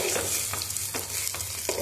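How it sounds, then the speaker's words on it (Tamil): Onion, garlic and ginger sizzle in a hot pan for onion chutney, a steady close frying hiss broken by several rhythmic scraping stirs of a spoon. "நல்லா வறுத்துக்கலாம்."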